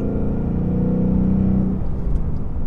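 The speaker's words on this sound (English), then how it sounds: "I just enjoy hearing this car a lot." A Ford Focus engine runs steadily, its low harmonic drone holding loud and close before settling into a rougher idle-like rumble near the end.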